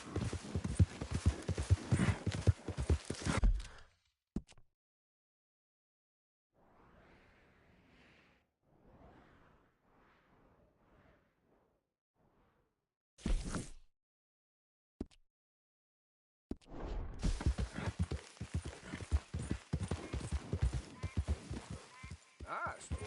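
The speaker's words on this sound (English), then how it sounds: "Giddy up." Horse hooves clip-clop in the Red Dead Redemption 2 video game, steady bursts of rhythmic trotting at the start and end with a quiet stretch between, loud and close.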